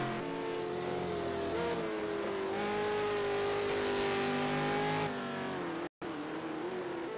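A V8 Supercar race car engine wails at Circuit of the Americas, a loud sustained harmonic roar with its pitch rising and falling through gear changes, broken by a brief cut near the end.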